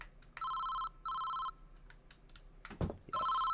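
A motel front-desk telephone in a video game rings in two clear electronic bursts, then a third begins after a short clatter, loud and close with no talking.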